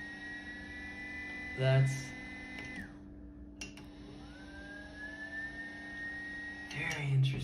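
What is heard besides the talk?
TIMEMORE Sculptor 078 coffee grinder running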